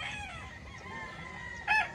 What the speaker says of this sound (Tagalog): Under the mango tree, may mga manok din dyan.